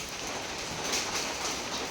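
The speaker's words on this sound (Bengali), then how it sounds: "শিল, বরফ বরফ পড়তেছে।" Heavy rain and hail pouring down outdoors, a steady dense hiss of falling water with scattered brighter impacts, continuous and fairly close throughout with no voices.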